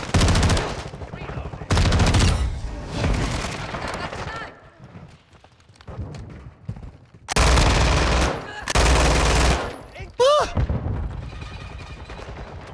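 Tempus Razorback gunfire in an online shooter game rattles in loud, close rapid-fire bursts separated by quieter gaps, with a player talking in between.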